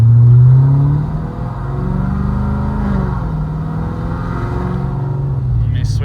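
A 426 Hemi Dodge Challenger, tuned for the street, drives along a narrow road with a loud, deep engine rumble that swells as it accelerates, then settles into a steady drone.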